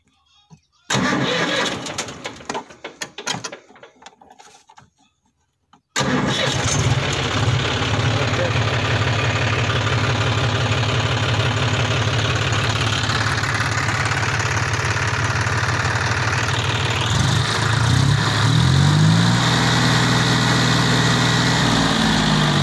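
A John Deere 5050D tractor engine cranks and catches after some rattling and a pause, then settles into a loud, steady diesel idle close by, with brief voices over it.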